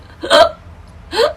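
Two short, sharp hiccups about a second apart, each a sudden voiced catch in the throat, heard close and clear against a quiet room with no talking.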